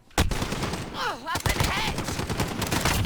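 M19 pistol fire in the Call of Duty Modern Warfare video game, with loud close shots in quick bursts and other game effects sweeping through between them.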